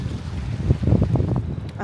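Strong wind gusts buffet the microphone in Newburyport, Massachusetts, creating a rough, rumbling roar that rises and falls.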